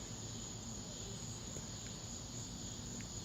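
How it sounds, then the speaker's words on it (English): Cicadas calling outdoors in a continuous, high-pitched, buzzing drone that holds steady and fairly loud for the whole stretch, with no talking. "I just wanted to film the beautiful noises that the cicada bugs are making."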